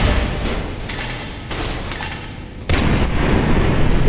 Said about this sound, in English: Just for calling me the lawbreaker, you have been gifted with a grenade.